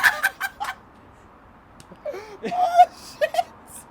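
A person imitates a chicken with a voice, giving short squawking clucks in scattered bursts, a few at the start and a denser cluster near the end, loud and close with quiet gaps between.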